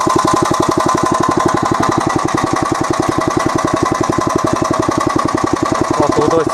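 A walk-behind tractor (motoblock) engine running while driving along, a loud, steady, rapid single-cylinder thumping that holds an even rhythm throughout.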